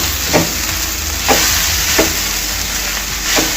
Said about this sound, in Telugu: ఉప్పు వేసిన తర్వాత ఇదంతా కూడా కలిపేసుకోవాలి.